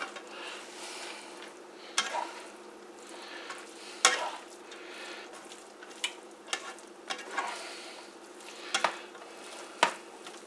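Rice with shrimp sizzles in a hot pan while a utensil tosses and stirs it, with a steady frying hiss broken by scattered sharp scrapes and clacks against the pan.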